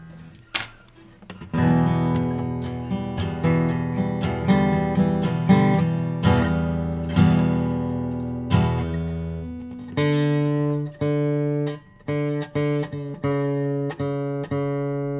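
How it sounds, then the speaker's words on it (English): A guitar is tuned note by note, single plucked strings ringing out and repeated with short pauses, close and clear with no talking. "that's the sound of someone tuning their guitar"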